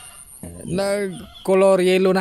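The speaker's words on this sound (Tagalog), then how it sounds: "ingay yung mga manok dito kasi alas 3 ng hapon" Chickens cluck loudly and close by on a rural Philippine farm in the afternoon, with strained, drawn-out calls in two bursts; a person speaks briefly among them.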